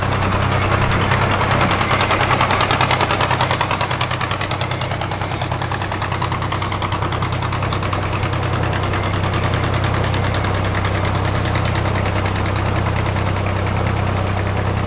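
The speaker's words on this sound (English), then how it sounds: "The sound of the engine is rather spoilt by the music that's being played." A diesel narrowboat engine runs steadily throughout on a canal with a low, rhythmic chugging thrum and faint knocking, close by and without any talking.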